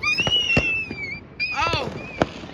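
Fireworks near Hawthorne Park at 4th Street in Chesterton, Indiana: a few sharp bangs and crackles under a long whistling tone and a rising screech, with people talking over them.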